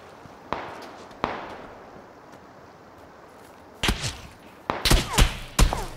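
Video game gunfire rings out as scattered sharp shots, two isolated cracks early on and then a quick cluster of louder bangs near the end over a low background hiss.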